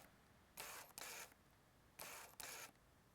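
Canon 50mm f/1.8 STM or f/1.4 lens autofocus motor heard up close, two paired bursts of faint whirring buzz as focus racks back and forth, quiet between.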